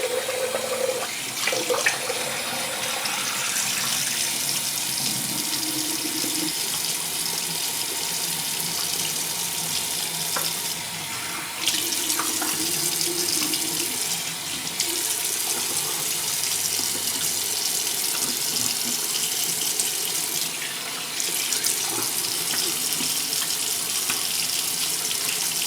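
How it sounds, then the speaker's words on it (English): Tap water runs steadily into a bathroom sink for a rinse during a shave, a constant close splashing hiss with slight shifts in flow and no talking. "let's do a quick rinse."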